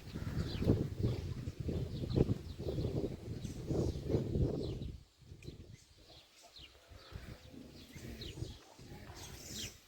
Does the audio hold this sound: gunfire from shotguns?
no